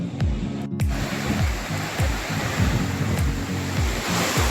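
Sea waves rolling onto the beach at Ganpatipule, a close, continuous surf wash with repeated surging swells every half second or so, loud and unbroken, without talking.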